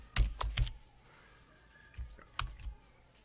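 Computer keyboard keys tapped during web coding, a short burst of several clicks, a pause, then another quick cluster of keystrokes, close and fairly quiet.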